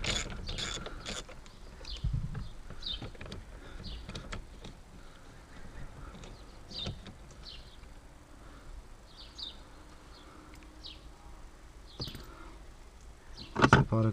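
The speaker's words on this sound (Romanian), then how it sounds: "Acum voi desfileta această piuliță." A wrench unscrewing the nut on a Nissan Qashqai steering wheel, a series of faint metallic ratchet clicks and scrapes spread irregularly over the stretch, with a louder clatter near the end, close and quiet with no talk.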